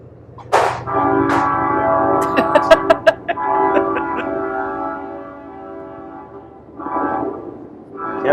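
A train passes outside a custom car workshop, sounding a loud, sustained horn that holds for several seconds with a few sharp bell-like strikes, then fades before a brief second blast.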